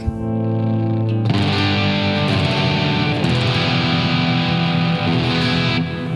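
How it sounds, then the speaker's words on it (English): Distorted electric guitar chords through a Line 6 Helix ring out and sustain, washed in long reverb that lets each chord hang and blend into the next. "I love that reverb. Now that's some serious hang time on that."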